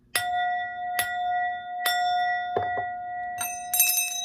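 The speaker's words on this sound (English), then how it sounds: "I ring my bells." Small hand bells ring during a new moon ritual with bright, clear, sustained tones. Single strikes come at about one-second intervals, then a quicker jangling cluster follows, with the ringing lingering between strikes and no talking.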